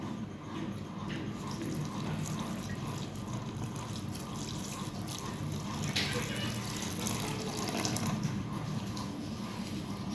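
Water runs steadily into a bowl of mixed chapati flour being readied for kneading, a continuous close splashing and trickling that holds fairly even for the full stretch with faint background noise.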